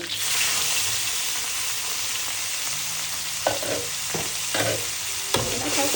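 Lemongrass and spice paste sizzle in a pot while being stirred, a loud steady frying hiss broken by several scraping strokes of the spoon toward the end.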